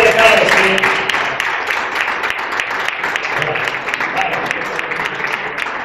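Audience applause at an awards gala for all the participants, a dense steady wash of many hands clapping that stays loud and even throughout, with some voices mixed in.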